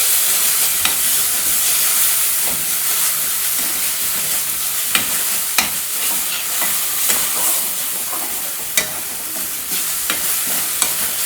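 Onions with ginger garlic paste fry loudly in a pan, a dense sizzling hiss broken by sharp scrapes and clicks of stirring at irregular intervals.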